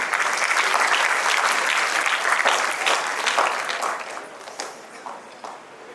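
Steady applause from a sizable crowd at a national school debate and awards ceremony, dense and close at first, then thinning out into scattered claps toward the end.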